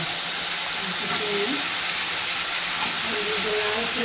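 Potatoes sizzle in hot oil with a steady, close hiss that carries on evenly, a few faint tonal clinks and murmurs sitting underneath.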